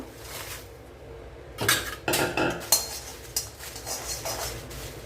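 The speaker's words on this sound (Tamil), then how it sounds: "நம்ம அடுப்பை ஆஃப் பண்ணி எடுத்துகிட்டு மிளகாவை வறுத்துக்கலாம்" Dried red chillies are dry-roasted in a pan with the stove off, a metal spatula scraping and clinking against the pan in a few sharp bursts over a soft, quiet background.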